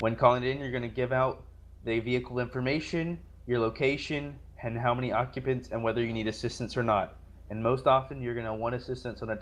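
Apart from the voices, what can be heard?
None of the usual background noises is heard.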